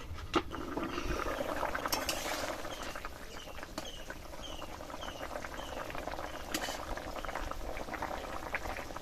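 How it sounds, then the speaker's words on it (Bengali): A thin fish curry broth with pumpkin, potato and green chili bubbles steadily in a pot, with soft continuous boiling and faint clinks, quiet and close with no talking. "কুমড়ো আর আলু সেদ্ধ হয়ে গেছে, আর ঝোলটা ফুটে ফুটে বেশ অনেকটা কমে গেছে।"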